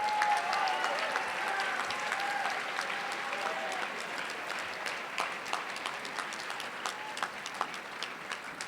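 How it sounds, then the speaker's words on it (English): Sustained applause from a large audience at the US Academic Decathlon Superquiz 2019 for volunteer proctors, dense clapping that stays strong throughout and thins slightly toward the end. "Round of applause for all these people."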